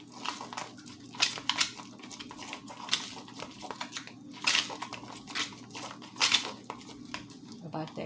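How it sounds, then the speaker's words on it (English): A spoon stirs deviled egg filling made with Hellmann's mayonnaise in a bowl, giving close, irregular clinks and soft wet squishes against the sides, with a person talking over it. "Stir this together, you guys."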